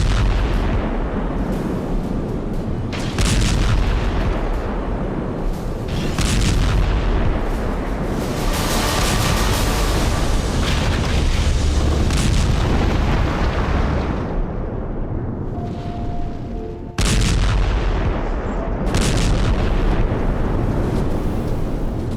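A hydrogen bomb explosion effect delivers loud, sustained thunderous rumbling, broken by repeated heavy blasts and roaring surges, with a brief dip and a fresh boom near the end.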